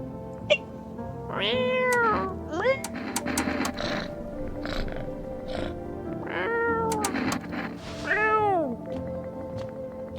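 A cat meows repeatedly in the video game No, I'm Not A Human, several drawn-out, rising-and-falling cries spaced across the moment over a low ambient game hum, with a voice talking in between.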